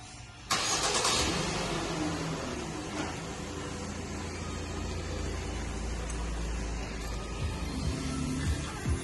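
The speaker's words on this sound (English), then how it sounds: "Puts the car into start mode." Engine of a 2014 Ford Transit Connect starts by CompuStar remote start, cranking abruptly, catching, then settling into a steady, close idle with no one speaking.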